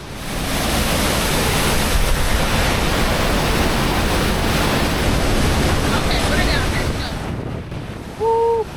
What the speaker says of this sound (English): It's the largest of the waterfall system, and it is wet and really windy out here.